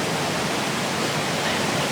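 The waterfall at Cedar Run Falls roars as a steady, dense broadband rush of falling water, close and continuous for the whole stretch, with no voices.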